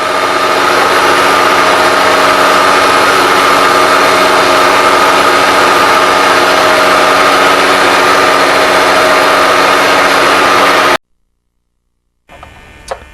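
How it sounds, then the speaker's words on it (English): A custom-made router bit cuts the rear contour of a guitar neck in a guitar shop, a loud, steady, high whine that holds unbroken for about eleven seconds before cutting off, followed by a brief faint rustle. "cutting the rear contour of the neck. We have a special bit custom made to do this."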